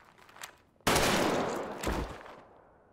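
Gunfire in a Squid Game episode, a sudden loud burst of shots with a second hit about a second later, decaying into a fading tail after a quiet lead-in.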